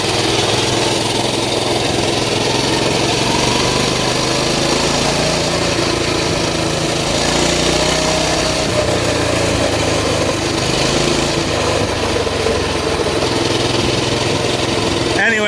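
A CT200U minibike's small engine runs steadily at a loud, close idle after a replacement carburetor was fitted, a constant droning hum across the whole stretch with no one speaking.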